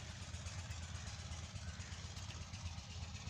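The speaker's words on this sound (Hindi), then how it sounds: "डीज़ल इंजन जो चल रहा है वो पानी लगा रहे हैं" A diesel engine runs a water pump among crop fields near Fazilpur, giving a steady, low, chugging idle hum that stays even and moderately distant without any talk.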